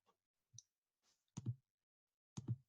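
Sharp clicks from a computer mouse, a faint tick followed by two louder, closely paired double clicks about a second apart, each with a brief low thump, in a quiet room.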